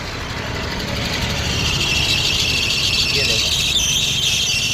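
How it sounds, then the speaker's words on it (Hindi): A Hyundai i10 gives a loud, steady high-pitched squeal with the AC switched on, sustained over the running engine's rumble, with a brief spoken word over it. "देखो अब इसमें इतनी भयंकर आवाज़ आ रही है एसी ऑन करते ही"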